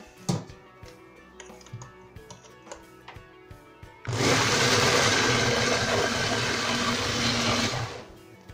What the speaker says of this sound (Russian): Помытые высушенные ягоды закладывают в блендер